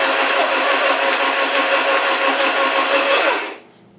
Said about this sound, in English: We're gonna turn the blender on.